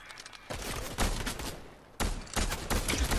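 Gunfire from a firefight in the video game Fortnite: dense, loud bursts of rapid shots in two bursts separated by a brief lull, crackling and close, with no voices over it.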